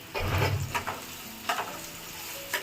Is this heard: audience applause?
no